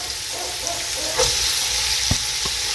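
Chopped carrots and a green capsicum cook in a beef stew pot with a dense, even bubbling sizzle, close and fairly loud, plus a few soft thumps of a spoon.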